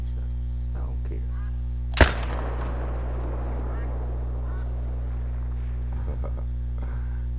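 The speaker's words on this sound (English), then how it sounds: "So I'm gonna take a blind shot right here." A single sharp rifle shot rings out in the hunting game theHunter: Call of the Wild, loud and sudden, then trails off in a long fading echo over a low steady hum.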